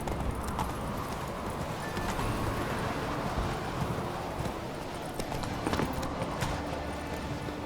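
Roach, Geralt's horse in The Witcher 3, trots along with a steady clip-clop of hooves, close and continuous over a wind-like ambient bed.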